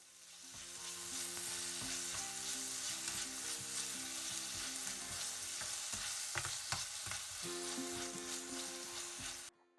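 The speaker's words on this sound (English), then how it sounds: "Add the chopped onion and half teaspoon salt and saute them for 2 minutes until" Chopped onion with salt sautés in a pan for a South Indian snow pea dish, with a steady, loud sizzle of frying and occasional stirring clatters near the end.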